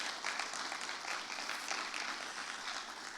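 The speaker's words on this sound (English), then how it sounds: "Let's give them a round of applause." Applause from an audience at a summit gathering, congratulating a newly married couple, a steady dense wash of many hands clapping, moderately distant and sustained throughout with no voices over it.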